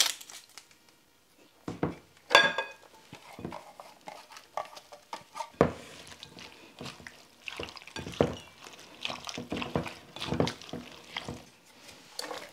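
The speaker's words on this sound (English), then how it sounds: "I'm just gonna chop up onion, and I'm gonna use my chopper over here like I did before" Onions get chopped in a manual chopper with scattered sharp clacks and taps, uneven in rhythm, some louder bursts among fainter knocks.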